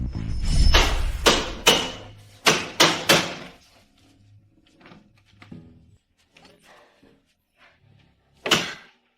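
Heavy banging on a broken, stuck door: a cluster of loud, close thumps and rattles, then quieter scattered knocks and shuffling, and one final sharp bang near the end.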